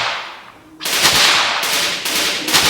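Video game gun firing, several loud, sharp shots in quick succession after a short lull, close and alone with no speech.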